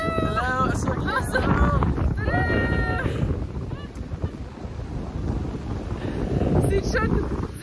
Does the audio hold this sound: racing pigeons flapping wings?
no